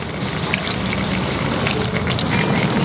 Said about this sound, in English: Now you put in the washed prawns